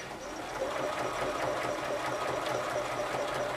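Home sewing machine stitching fabric for rotary cutter cozies, a steady close mechanical whir running continuously with no pauses and no talking.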